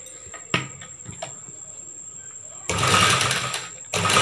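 A sewing machine stitching a churidar top, its motor running in a dense, steady burst for about a second toward the end after quieter handling sounds and a faint constant whine.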